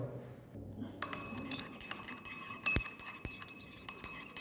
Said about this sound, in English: mixing with a glass stirrer